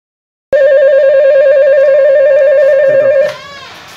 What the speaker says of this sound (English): press it and hold on, you can hear the ring sound.